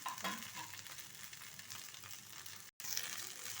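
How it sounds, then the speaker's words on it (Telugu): Green chilli pieces and cut idli pieces fry in a hot pan, giving a steady, close sizzle with stirring scrapes, broken by a brief silent gap near the end. "ఇదిగోండి పచ్చిమిరపకాయ ముక్కలు కొంచెం వేగిపోవాలి"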